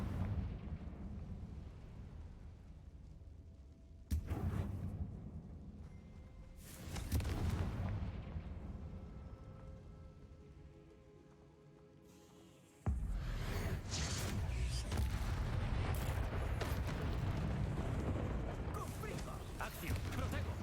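Heavy booming blasts of Confringo fire spells in the Hogwarts Legacy video game, several deep explosions with rumbling decay, one sudden loud hit midway, mixed with game sounds and a voice calling out.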